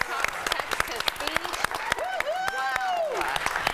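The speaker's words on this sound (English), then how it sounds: "That was quite the round of applause." Studio audience applause on a talk show welcoming guests, steady dense clapping throughout while a voice speaks over it.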